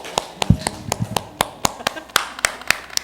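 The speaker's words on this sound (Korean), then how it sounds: "저분을 향하여서 박수 한번 해주겠습니다" A church congregation claps in a Sunday worship service, a run of sharp, distinct hand claps in a loose, uneven rhythm, fairly close and moderately loud, with some voices underneath.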